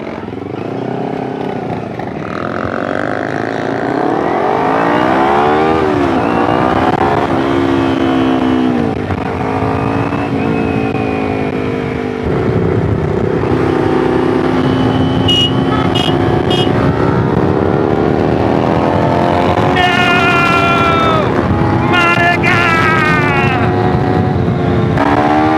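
A Kawasaki Ninja 250R motorcycle ridden on the road, its engine loud and continuous with rising and falling revs through gear changes and a sustained high-pitched whine at speed.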